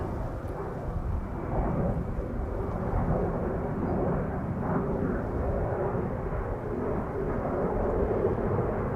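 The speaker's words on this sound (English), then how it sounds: "Embraer 190 just took off from" An Embraer 190 airliner climbing away after takeoff at Schiphol makes a deep, rumbling engine roar, distant and muffled, steady across the whole stretch with no voices.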